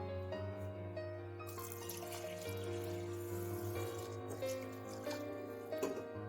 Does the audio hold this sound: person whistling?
no